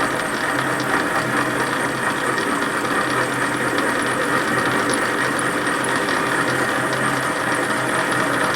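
A Warco metal lathe takes a light facing cut across a workpiece, producing a steady mechanical whir and gear rattle that stays constant and fairly loud throughout, with no talking.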